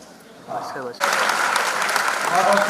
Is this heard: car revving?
no